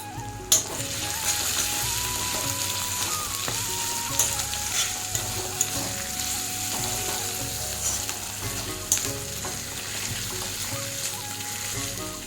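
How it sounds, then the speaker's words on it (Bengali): Green chillies sizzle and fry in oil alongside tomato for a Bengali egg curry, a steady loud crackle with occasional stirring scrapes throughout, no voices. "একটু ভালো করে ভাজা হয়ে গেছে, এখন দিব আমি কাঁচা লঙ্কা।"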